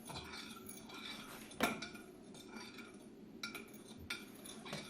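Eggs being stirred in a bowl, with soft utensil scrapes and light clinks against the bowl at close range, quiet and uneven with occasional sharper taps.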